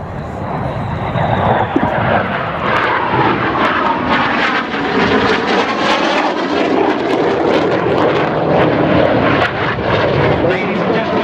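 RAF Red Arrows jets in an air show display at Welshpool, flying low at about 100 feet above the trees. A loud, continuous jet roar swells and holds throughout, with commentary over a public address system.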